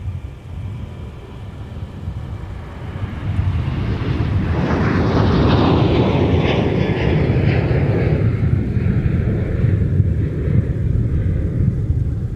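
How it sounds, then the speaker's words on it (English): American Airlines jet departing MSP airport for Charlotte, its engine roar swelling from a low rumble to a loud sustained takeoff thunder with a sweeping high whine, fairly close and alone. "That American departure was flight 2608 headed to Charlotte."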